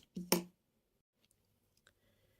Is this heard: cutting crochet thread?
yes